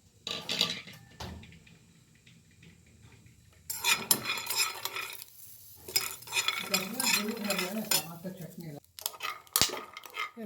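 Peanuts roasting in a pan for peanut chutney, stirred in bursts with scraping and clinking against the pan, faint sizzling between strokes, a quieter start then busier stirring.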